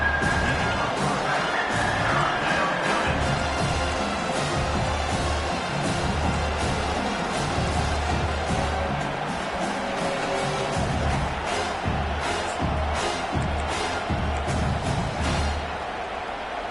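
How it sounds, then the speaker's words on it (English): A football stadium crowd roars steadily behind the defense on third down, a dense, continuous wall of cheering and shouting that holds at full volume for the whole stretch. "Decibels rising as the crowd gets behind this defense on 3rd down."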